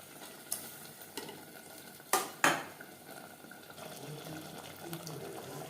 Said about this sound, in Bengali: ভাজা পেঁয়াজ ও তেজপাতার সাথে মাটন বেশ ভালো করে মিক্সড করে দেবো